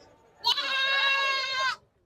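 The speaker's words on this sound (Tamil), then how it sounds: "ஆடு நிறைய நிக்குதுங்க அப்படியே ரோடே பிளாக் பண்ணி வச்சிருக்காங்க" A goat at a busy roadside livestock market in Muthur gives one loud, sustained bleat lasting over a second, close by, above a low murmur of crowd noise.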